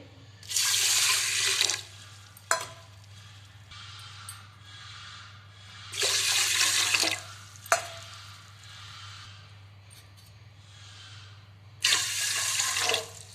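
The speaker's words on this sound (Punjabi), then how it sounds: "ਤਿੰਨ ਕੋਲੀਆਂ ਆਪਾਂ ਪਾਣੀ ਦੀਆਂ ਪਾ ਲਈਆਂ" Water is poured into whole green moong dal three separate times, each pour a splashy rush lasting over a second, with quiet gaps and small clinks in between.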